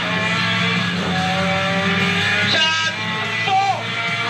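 Renault 5 Turbo rally car drifting, a loud engine drone with tire squeal and a rising rev near the end, close and continuous with no talk.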